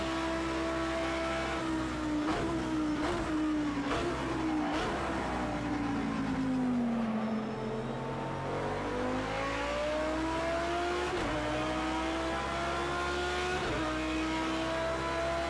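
Audi R8 LMS race cars at Le Mans in Project Cars 2 rev hard and shift through gears, the engine pitch sweeping down and climbing again, loud and close with brief tire squeals.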